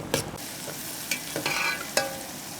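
Chopped shallots sautéing in coconut oil for karela gosht, a soft steady sizzle broken by a few sharp scraping stirs of a spoon against the pan, close and fairly quiet, with no talking.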